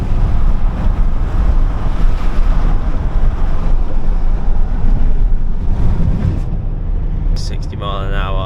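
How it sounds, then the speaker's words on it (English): Strong wind buffeting the microphone on Military Road, a coastal road on the Isle of Wight, loud and continuous low roar with gusts; a voice speaks briefly near the end. "so as you can tell it's very windy today"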